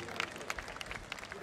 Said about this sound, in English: please welcome Dr. Sachin with a round of applause for his number